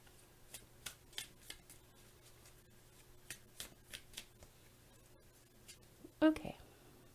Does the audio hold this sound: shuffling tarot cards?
yes